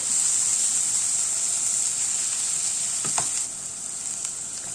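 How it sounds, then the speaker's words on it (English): Vegetables for an artichoke dish sizzle and crackle steadily as they stir-fry in a hot pan, a brief clink of stirring midway, the hiss easing slightly near the end. "Stir fry it for a couple more minutes"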